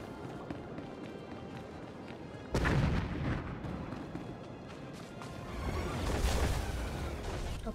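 Artillery barrage in Star Wars: The Old Republic, a sudden loud booming onset followed by sustained rumbling blasts and crackling impacts, swelling again near the end, with a voice speaking over the action.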